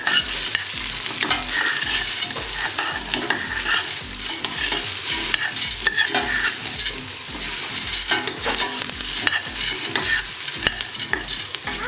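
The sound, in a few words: bouillon toasting in a pan for poor man's soup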